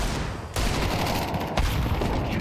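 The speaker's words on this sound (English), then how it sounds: "Beautiful grenade from Zerfi. Takes down 2 terrorists with the grenade." Grenade blast in a Counter-Strike 2 tournament match, two sharp loud bursts about a second apart amid a dense, continuous wash of gunfire and game noise, no voices.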